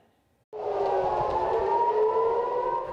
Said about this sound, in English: air raid sirens sounded across Israel, sending people running for shelters